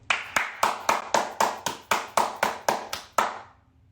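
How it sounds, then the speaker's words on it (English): A single person claps alone in a quiet room, about thirteen sharp, evenly spaced claps in a steady rhythm, each with a short ringing tail, the last one trailing off into silence. "gonna clap it up."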